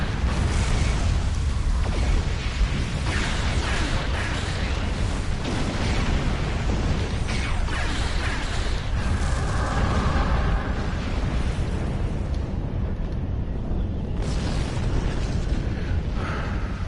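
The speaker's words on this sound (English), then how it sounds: "that's a lot of torpedoes" Torpedo explosions in a Star Trek Online space battle, a dense, continuous barrage of booming blasts and bursts that runs loud for the whole stretch without letting up.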